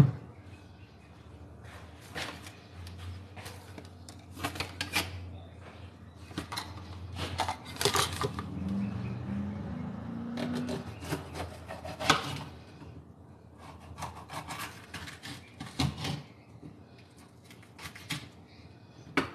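Vegetables being cut for paper-wrapped fish, with a knife chopping and scraping on a wooden board in irregular taps and short bursts, close and moderately loud, no talking.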